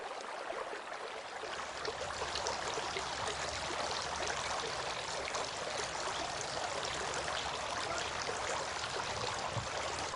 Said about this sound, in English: Washing the feet.